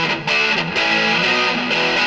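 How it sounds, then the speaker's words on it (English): Fender Nashville Telecaster electric guitar played through a distortion tone, with loud, sustained, fuzzy chords changing a few times before cutting off abruptly at the end, no voices. "So let me go ahead and turn back on the distortion tone here."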